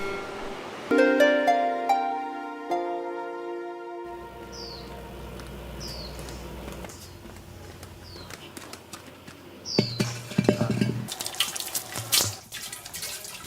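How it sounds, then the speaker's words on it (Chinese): Water runs and splashes as an unglazed ceramic jar, meant for fermenting vinegar, is washed, with a burst of melodic tones at the start before the running-water sounds take over, growing busier toward the end. "朱巧芬正在清洗的這個壇子，是為了製作臭屁醋而準備的"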